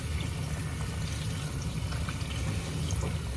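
Water streams steadily from a tap into a sink, a continuous close rushing splash with no pauses.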